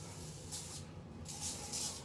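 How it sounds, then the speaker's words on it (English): An aerosol can sprays in two short hissing bursts close by, the second longer than the first, over faint room noise. "let me spray some right now"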